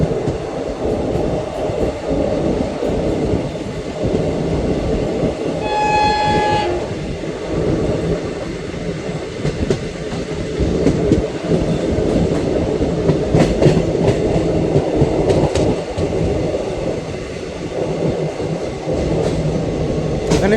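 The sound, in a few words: Lucknow Intercity SF Express train running on rails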